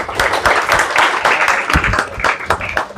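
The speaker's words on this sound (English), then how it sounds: "So we'll do one clap for all of us." An audience in a student stress management session claps in a loud, dense burst of many hands, with sharp repeated clap transients running through the whole stretch.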